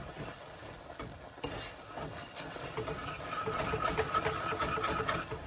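A spoon scrapes and rubs steadily through hot brown sugar caramel icing in a pot, soft and close, with a continuous stirring rasp and no voices.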